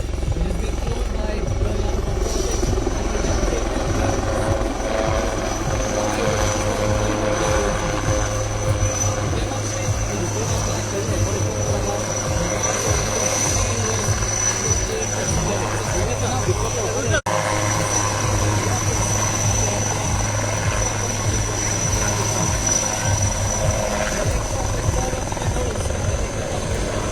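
A military helicopter's rotor and engine roar steadily throughout at a military tattoo in Kolkata, loud and close, with a low rhythmic thump and a high whine on top; a voice speaks faintly underneath.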